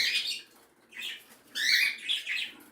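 A pet budgie and lovebirds give bright chirps and tweets in short bursts, moderately close and fairly soft, with no voices.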